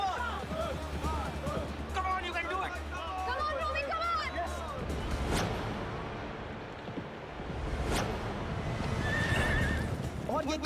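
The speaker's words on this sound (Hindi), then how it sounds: "मुंबई रेस कोर्स की ताजी सुबह में 2016 रॉयल डर्बी की शुरुआत होती है और 400 मीटर के मार्ग पे घोड़े पहुंच चुके हैं" Racehorses at the 2016 Royal Derby at Mumbai Race Course neigh repeatedly and clearly over galloping hoofbeats, with a commentator talking over the race and crowd murmur in the background.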